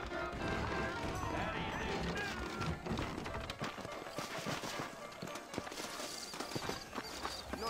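Horse hooves in the video game Red Dead Redemption clip-clop in a brisk, uneven patter at moderate volume, with voices heard at times over the hoofbeats.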